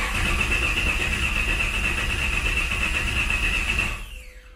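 A Chevrolet Gen V LT V8 cranks over steadily on the starter with its fuel-injector work in progress, a loud, continuous mechanical drone that holds evenly and then cuts off abruptly near the end, with no voices.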